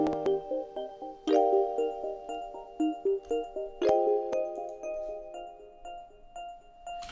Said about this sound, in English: There is a little bell that goes like this.